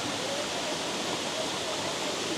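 Waterfall at the foot of a cascade in Ordesa canyon, a steady, dense broadband rush of falling water, close and continuous with no breaks, heard alone.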